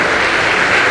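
A church congregation applauding during an anniversary service, dense sustained clapping filling the room evenly, loud and close, with no pauses.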